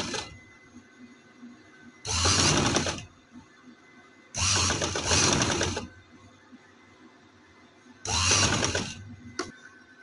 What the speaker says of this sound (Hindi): इसके ऊपर ऊपर हमने सिलाई रखनी है ताकि हमारी मगदी अच्छे तरीके से लगे।